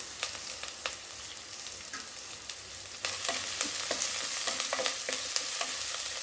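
Pepper, dried red chillies and curry leaves crackling in hot oil as a tempering for pepper chicken rasam, a dense close sizzle with sharp pops that swells louder halfway through, no voices.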